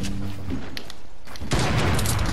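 Video game gunfire aimed at a platform, a loud burst of rapid shots with a sharp onset near the end, mostly on its own.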